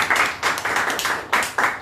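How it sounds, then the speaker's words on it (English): A small audience claps in uneven bursts at a public speaking event, the hand claps fairly close and sparse, rising and fading over a couple of seconds with no talking. "Let's clap for Bhargav also"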